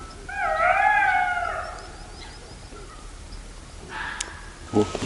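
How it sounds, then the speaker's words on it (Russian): At night by a riverside fishing camp, jackals let out a wavering, rising howl in the distance, followed by quieter calls, while people talk softly nearby. "Это что, шакал или волк? Шакал."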